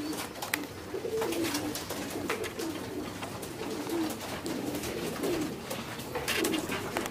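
Several pigeons in a loft coo over and over in low, throaty rolls, close and steady across the whole stretch, with soft wing and shuffling noises between calls and no voices.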